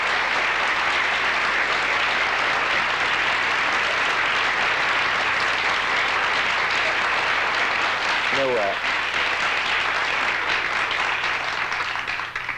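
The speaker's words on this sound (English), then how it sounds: "They must have worn out the applause sign on that." Studio audience applause on a television talk show fills the room at full volume and holds steady, with a man's brief remark rising over the clapping near the end.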